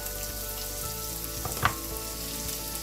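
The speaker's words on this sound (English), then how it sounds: "we're going to saute this till the onions are light brown and softened" Onions sauté in a pan until light brown and softened, with a steady close sizzle and crackle throughout and one brief louder pop near the middle.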